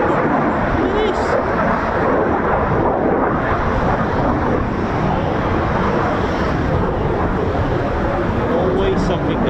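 A Eurofighter Typhoon FGR4 jet taking off at an RAF station, a loud continuous roar of engine noise with wind rumble that stays steady and dense throughout.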